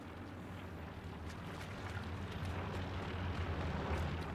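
A German reconnaissance airplane passes overhead in the WWII shooter Hell Let Loose, a steady low droning rumble that swells slightly louder as it nears, with no speech over it.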